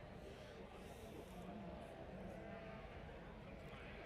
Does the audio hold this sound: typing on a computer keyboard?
no